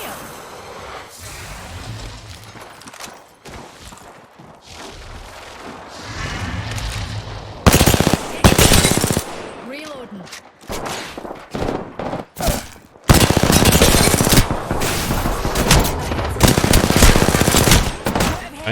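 CAR SMG fire in the battle royale shooter Apex Legends: repeated loud, rapid automatic bursts, several long sprays separated by short pauses, over dense game effects and some faint voices.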